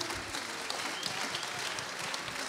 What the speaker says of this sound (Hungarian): Nagy tapsot kérünk!